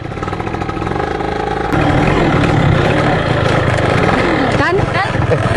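A struggling motorcycle engine sputters unevenly and cuts out on a roadside breakdown, loud and close, with a couple talking over it.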